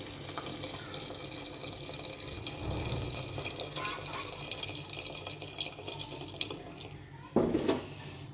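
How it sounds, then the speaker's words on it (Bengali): Boiling hot water is poured into a beef and potato curry in the pot, a steady pouring rush that ends in a brief, louder surge of splashing and bubbling near the close. "এখন পানি দিয়ে দিচ্ছি, একদম ফুটন্ত গরম পানিগুলো।"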